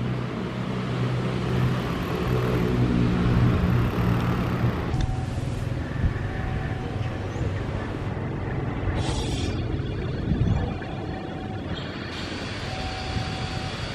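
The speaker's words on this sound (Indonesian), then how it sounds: "kita mau menyaksikan kereta yang melintas di Stasiun Klaten" A train passes through Klaten station in Indonesia under cloudy skies. It makes a steady, broadband rumble and roar that lasts the whole time, with a few faint higher tones and no voices.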